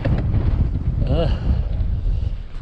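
Heavy wind buffeting the microphone during a mountain e-bike ride, a loud continuous low roar and rumble throughout, with a brief whistling tone partway through.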